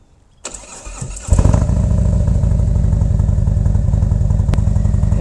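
A Harley-Davidson motorcycle cranks briefly, then its engine fires and settles into a loud, steady, throaty idle close by.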